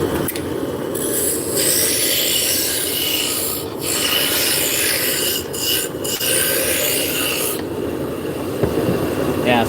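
A skew chisel shears wood spinning on a lathe, making a loud continuous rasping hiss that drops out briefly several times as the tool lifts.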